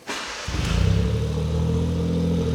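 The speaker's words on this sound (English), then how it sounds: "It just idles like a little sewing machine." A Suzuki Cappuccino's small engine starts with a brief crank, then settles into a steady, even idle, close by and fairly loud.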